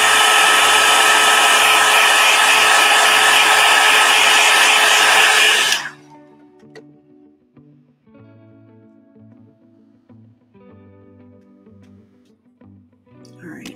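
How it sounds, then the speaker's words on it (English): A heat gun blasts loud and steady at close range while drying paint on a hand-painted rock, then cuts off abruptly partway through, leaving quiet room sound with faint talk. "I'm just going to zap this with my heat gun quickly."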